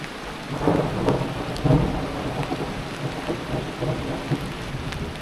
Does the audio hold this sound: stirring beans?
no